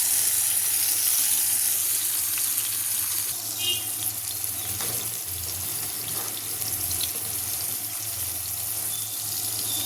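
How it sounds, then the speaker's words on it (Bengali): Onion, garlic and tomato paste frying in hot oil for a fish curry, a steady loud hiss and sizzle running throughout with faint clinks near the middle. "এখানে পেঁয়াজ, রসুন আর টমেটো বাটা দিলাম।"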